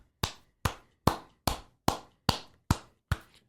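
A single pair of hands claps eight times in a slow, steady rhythm, each clap sharp, close and loud, with nothing else heard between them.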